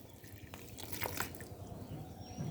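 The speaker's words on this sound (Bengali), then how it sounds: "এবার আমি হালকা করে জল দিয়ে দেব, খুব বেশি জল দেব না" Water is poured lightly onto a newly planted potted plant, producing faint, close drips and soft splashing into the soil.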